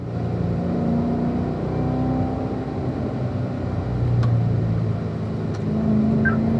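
A Corvette on a driving-school track hums steadily as the driver eases off the throttle, a sustained, fairly loud engine drone with shifting tonal whine and no voices.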